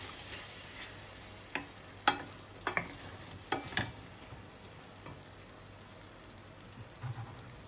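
Sambal mixed with added water begins to boil in a pan, a soft steady sizzle and bubbling with a few sharp pops and ticks scattered through it, fairly quiet and with no talk.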